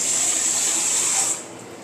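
Water rushes from a tap into a kitchen sink during a cooking class, a loud, steady hiss that drops off sharply near the end as the flow is cut, with no speech over it.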